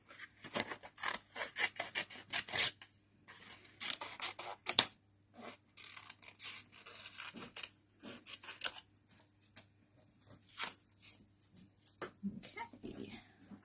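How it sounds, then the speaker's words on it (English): Scissors cutting paper baubles, repeated close crisp snips and rustling in short rhythmic bursts with pauses, quiet tabletop setting. "So, scissors. Right, let's cut our baubles out while we're waiting."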